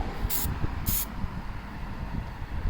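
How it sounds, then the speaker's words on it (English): Two short hissing bursts of a Plasti Dip aerosol spray can, applied to car emblems, sound over a low rumbling background, each about a fifth of a second long. "Let me just spray a little bit."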